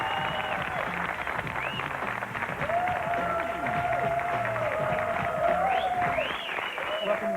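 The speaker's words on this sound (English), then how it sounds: "Give a round of applause." Studio audience at a 1995 talk show breaks into sustained applause, a steady wash of clapping that runs for several seconds while a host speaks over it.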